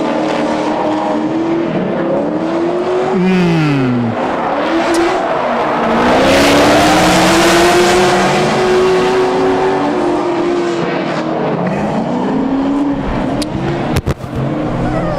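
Two BMW drift cars running in tandem at a competition, engines roaring loud and close with rising and falling revs, gear-driven pitch sweeps and tire noise blending into one continuous wall of sound.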